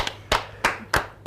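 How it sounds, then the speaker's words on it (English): Four or five sharp hand claps in a slow, even rhythm, close and clear, with no voices. "Come on, a round of applause."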